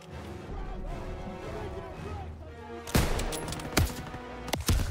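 Gunfire in the WWII shooter Call of Duty: WWII on Veteran difficulty: a few loud, sharp shots land in the second half, separated by short gaps, over a steady bed of game sound and music, with no talking.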